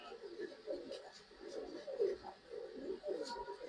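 Pigeons cooing in a pet shop selling flying birds, soft repeated low warbling coos in uneven bursts, fairly close but quiet, with faint background noise.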